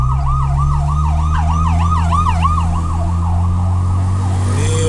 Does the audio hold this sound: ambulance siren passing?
yes